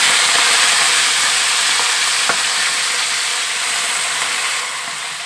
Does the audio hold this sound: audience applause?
no